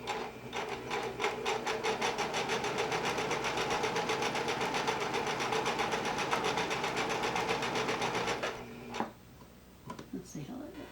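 A sewing machine runs a fast, steady stitching rhythm while sewing a knit sleeve, close and continuous for about eight seconds before stopping, followed by quiet handling noises.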